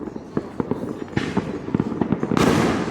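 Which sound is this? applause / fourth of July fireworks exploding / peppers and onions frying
fourth of July fireworks exploding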